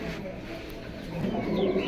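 Pigeon cooing from a single male Neo Pankhi pigeon held close in a loft, a low soft coo rising and swelling near the end of a short stretch, steady and close with faint background activity.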